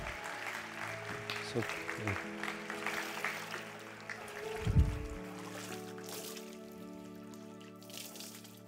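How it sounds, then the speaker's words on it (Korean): Church congregation applauding after a baptism by immersion, a sustained round of clapping at moderate distance with water splashing and trickling nearby, a loud splash midway, and low voices and tonal hum underneath. "큰 박수로 축하해 주시기 바랍니다"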